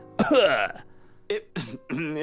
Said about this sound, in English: That cough was solid.